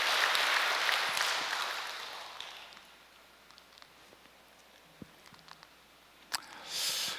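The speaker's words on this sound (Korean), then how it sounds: "하늘 부모님과 참 부모님께 여러분 감사의 박수 한번 보내주시면" Audience applause at a peace blessing ceremony for married couples, a broad wash of clapping that starts fairly loud, fades away after a couple of seconds and leaves a quiet room with scattered small noises.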